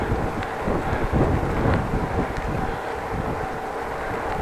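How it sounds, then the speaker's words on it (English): Wind buffets the microphone of a moving bicycle in Groningen in a steady, rough roar, with gusts swelling and easing. No voices or other distinct sounds come through. "nice cycling weather, although a bit windy"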